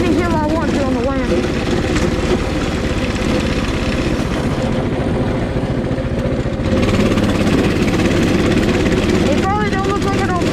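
Coleman 200cc mini bike with a torque converter climbing a steep hill, its engine droning loud and steady throughout with a brief change in pitch partway, close and continuous.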